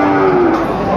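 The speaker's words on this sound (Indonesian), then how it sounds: "Seperti ini sapinya tuh." A Jambrong cow lowing at an APPSI cattle contest in Boyolali, one sustained, loud moo filling the whole second, close to the microphone with no talk over it.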